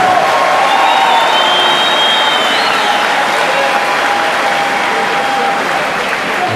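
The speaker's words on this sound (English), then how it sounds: "have a nice round of applause for both fighters, please" Arena crowd applauding both fighters before the decision at a boxing match, a loud, sustained roar of clapping with cheering mixed in, filling the whole stretch evenly.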